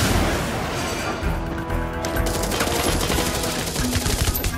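Explosions and heavy gunfire in the mobile game Age of Apes, a dense, loud rumbling barrage with a deep boom and rapid crackling blasts running throughout.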